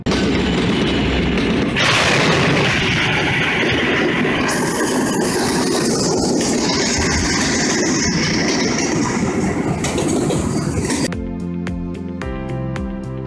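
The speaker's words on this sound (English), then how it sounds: "Trailer of 18-wheeler got hit by train." A freight train strikes the trailer of an 18-wheeler truck at a crossing, with dense loud rumbling and grinding noise that sharpens into a louder crash partway through, then gives way to quieter rhythmic clicking near the end.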